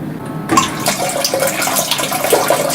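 Water spraying from a Japanese bidet toilet in a Shinjuku hotel bathroom, starting abruptly after a brief quiet moment and continuing as a steady hiss of running water.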